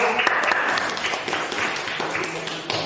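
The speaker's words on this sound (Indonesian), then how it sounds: "tepuk tangan untuk kelompok" A classroom group applauds fellow students in a school lesson, a steady, moderately loud patter of many hands that runs throughout, with voices murmuring faintly underneath.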